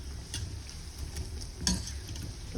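Thai fried dough snacks (khanom hua roh) bubble and sizzle steadily in hot oil, a continuous crackling fry with a brief sharper spatter near the end and no voices.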